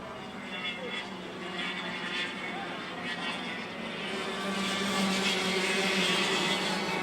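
Racing karts at speed on a track, including the number 12 and number 79 karts battling for position, a continuous droning engine roar that swells louder toward the end while a commentator talks over it.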